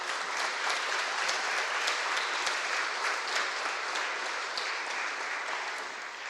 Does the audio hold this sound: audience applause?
yes